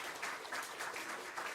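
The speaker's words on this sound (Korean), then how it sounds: "예, 축하 박수 부탁드립니다" A church congregation claps for a Bible-reading award at a Korean Baptist church ceremony. The steady, dense applause fills the whole stretch with no break.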